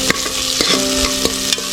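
Whole black peppercorns, cloves, cinnamon and bay leaf frying in hot oil in a pan, a close steady sizzle with several sharp stirring scrapes and clinks, no voices.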